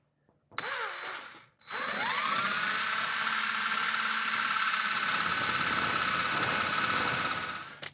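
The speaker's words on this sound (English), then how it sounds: "I'm going to pre-drill 1/8 inch holes, or at least an 1/8 inch hole here" A power drill whines at a steady high pitch, starting briefly, pausing, then running continuously and loud as it bores a 1/8 inch pilot hole through steel.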